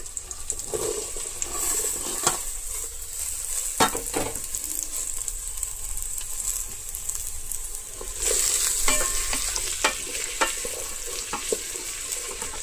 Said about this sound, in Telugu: ఇప్పుడు ఉల్లిపాయలు బాగా వేగినాయి కదా దొండకాయ ముక్కలు వేసేద్దాం